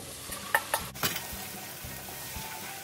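Sauce poured into a pan of frying bacon (pork belly) and onion: a soft continuous sizzle with a few sharp clinks and scrapes of stirring near the start, fading to a low steady fry, no talking.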